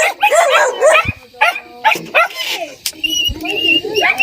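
A dog barks several times in short bursts, mixed with whimpering yips and people talking nearby.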